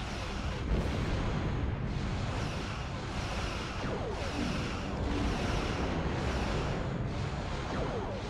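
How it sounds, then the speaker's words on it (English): A starship fires torpedoes in the video game Star Trek Online, a run of repeated booming blasts and rumbling bursts at an irregular pace, loud and dense, with no talk. "Then hit them with torpedoes."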